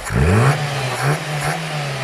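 A carbureted Tofaş Şahin, converted from fuel injection, revs up sharply from idle, its engine note climbing and then settling into a steady mid-pitched drone with a couple of smaller throttle blips, close and fairly loud.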